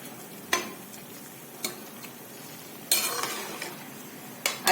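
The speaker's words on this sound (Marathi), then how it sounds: "असं याला त्या साखरेच्या पाण्यामध्ये शिजू द्यायचंय" Watermelon rind pieces cooking in sugar syrup, stirred with a spoon in a pan, giving a soft background simmer broken by several sharp scraping and clinking strokes, one longer scrape near the middle.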